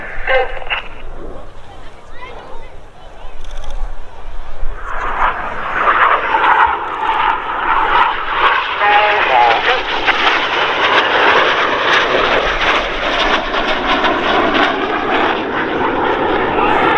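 Red Arrows display jets pulling up at the Old Buckenham Airshow, a loud, sustained jet engine roar that builds and holds steady, with a public-address announcer talking over it.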